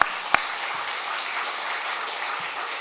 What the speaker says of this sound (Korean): 우리 존경한다 고 박수하겠습니다